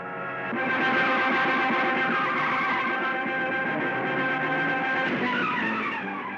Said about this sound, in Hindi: सागर, तानिया, ड्राइवर, गाड़ी घुमाओ